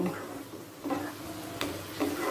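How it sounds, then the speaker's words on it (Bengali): Spices and onions fry in a pan for a Bengali soya curry, with a soft sizzle under a few distinct stirring scrapes at regular intervals, close and fairly quiet. "একসাথে সব মশলাগুলোকে পেঁয়াজের সাথে মিশিয়ে নেব মিশিয়ে নিয়ে ভালো করে কষিয়ে নেব"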